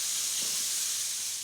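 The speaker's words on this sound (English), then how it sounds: "it really smells like breakfast time when you're frying bacon" Bacon and chicken sizzle in a hot frying pan, a steady bright hiss of spitting fat that holds evenly throughout and eases slightly at the end, close and alone with no voices.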